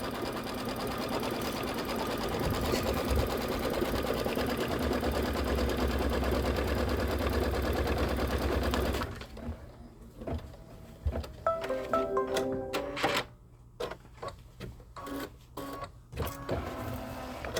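A Kimberbell embroidery machine sews a quilting stitch with a steady, close mechanical whir, then stops and gives way to scattered clicks and short rattling bursts.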